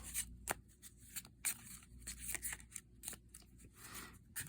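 Soft, irregular papery riffling and flicking of oracle cards being shuffled, close and fairly quiet, with scattered sharper snaps and no talking.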